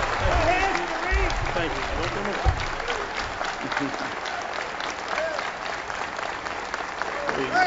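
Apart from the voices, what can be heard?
audience applause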